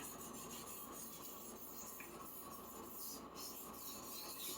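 An old Henckels Twinworks chef knife rasps back and forth on a 1000 grit whetstone, producing a steady, close gritty rubbing that runs without a break and with no voices.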